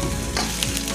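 Ginger toasting in a pan for squid adobo in coconut milk gives a loud, close, continuous sizzle with faint stirring scrapes, no voices.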